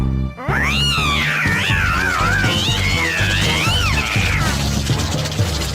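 A cat in a Horrid Henry cartoon scene lets out a long, loud, wavering meow that rises and falls, with some muffled clatter underneath.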